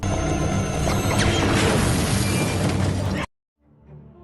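A bomb blast in a film scene erupts as a loud, sustained roar of explosion and shattering debris, then cuts abruptly to near silence with a faint low rumble returning.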